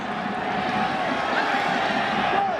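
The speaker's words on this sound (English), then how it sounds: "An uneasy feeling here in the crowd in Columbus. Some murmuring going on" A football stadium crowd in Columbus during a USA versus Mexico match murmurs uneasily, a steady dense wash of voices with faint whoops rising here and there throughout.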